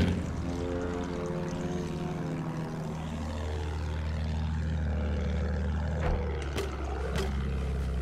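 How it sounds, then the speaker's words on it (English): A propeller bomber drones overhead in a video game, a steady, loud multi-engine hum with a low rumble underneath and a few sharp clicks near the end, no speech. "Big bomber up there!"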